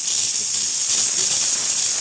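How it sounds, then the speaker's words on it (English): Steady, loud hiss of steam rushing from the single-hole steam wand of a Rancilio Silvia espresso machine, a constant close-up spray with no talking. "Now that it's warmed up to the steam function, we're going to open the steam on."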